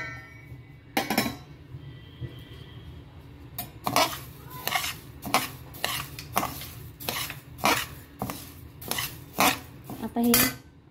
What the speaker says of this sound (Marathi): आता इथे कढई गरम झाली, तांदूळ घालून घेते,